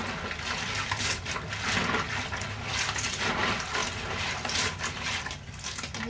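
Water runs from a tap into a pot for boiling jumbo peanuts, a continuous rushing, splashing flow at close range with no speech.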